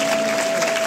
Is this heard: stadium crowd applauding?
yes